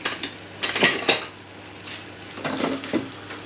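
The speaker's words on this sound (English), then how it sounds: "I'm going to get my whisk out just in case I need it" A whisk handled in a pan for making Anglesey eggs, producing a few short metallic clinks and knocks in two small clusters, close and fairly quiet, with no talking.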